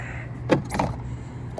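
Fuel door on a 2005 Ford Explorer Sport Trac pickup being opened: two short clicks and clunks of the small door and latch, close and moderately loud, with quiet surroundings and no talking.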